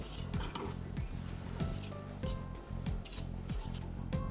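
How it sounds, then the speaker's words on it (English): Flour is folded slowly into butter cake batter, with soft rhythmic scraping and clinking of a spatula against a mixing bowl, repeated strokes at a steady pace, quiet and close. "we are going to fold the flour into the batter slowly."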